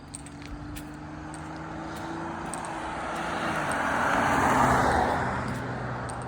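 A truck passes by on a nearby road on a nice day, a broad rumbling hum that swells toward the middle and slowly fades, heard alone with no talking.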